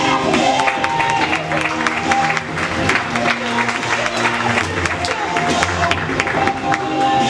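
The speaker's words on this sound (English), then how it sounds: "big round of applause, Mr. Lee Willis" Audience applause and cheering for comedian Lee Willis at a stand-up comedy competition, a steady dense crowd roar with clapping and shouts sustained throughout, with some voices and tonal sound mixed in.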